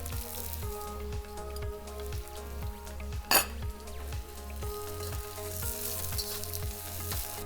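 Onions and soaked shiitake mushrooms stir-fry with beef in a hot pan, giving a steady close sizzle throughout with one sharp scrape midway and a low repeating hum underneath.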